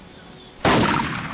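Rifle shot at a buck in a deer hunting game, a single sharp loud blast followed by a rolling echo tail.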